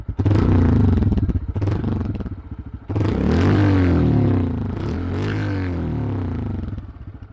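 A Honda CB 125 Hornet motorcycle engine idles and revs in bursts, with loud throbbing low rumble, a brief drop near the third second, then rising and falling revs.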